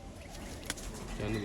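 Punnu wale breed pigeons give a soft, low coo near the end of a short moment, close by, mixed with a faint flutter and someone talking.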